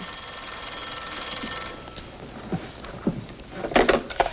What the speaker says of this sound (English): your phone's ringing, Margie, but tell him to wait.